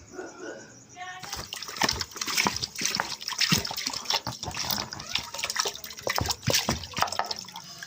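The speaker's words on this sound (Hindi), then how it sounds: "अब इसमें डालते हैं 2 लीटर पानी।" Two litres of water pour from a vessel into an open-mouthed cooking pot already holding sugar, a continuous splashing gush that starts after a brief quiet moment and keeps going, close and fairly loud.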